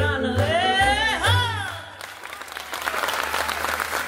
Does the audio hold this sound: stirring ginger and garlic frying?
no